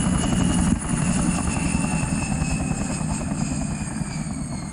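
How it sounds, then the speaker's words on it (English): A helicopter's rotor chops steadily overhead with a thick, droning thrum, loud and continuous throughout. "Maybe make a helicopter or a jet fly over."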